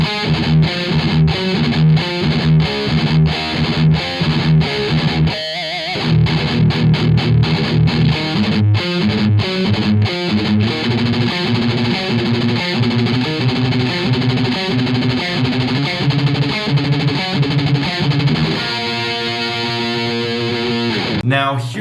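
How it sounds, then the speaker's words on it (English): Distorted electric guitar chugs through a heavy metal riff with tight palm-muted rhythmic bursts, loud and close and continuous, ending on a ringing open chord. "Here's an example on how I play a riff using the palm muting technique with distortion."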